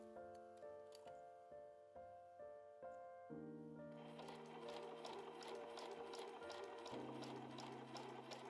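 A sewing machine stitches quilted bag fabric with batting: a quick run of rhythmic mechanical stitching, close and steady, that shifts into a denser, faster whir partway through.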